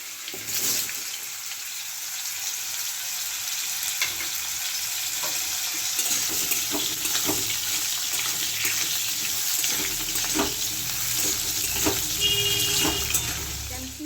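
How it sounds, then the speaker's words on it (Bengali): Raw mango pieces fry with panch phoron in hot oil, giving a steady close sizzling hiss with scattered crackles and pops that runs through the whole stretch with no talking. "পাঁচ ফোড়ন দিয়ে দিচ্ছি কাঁচা আমগুলো কেটে রেখেছি ওইটা দিয়ে দেবো ভেজে নেবো ভালো করে"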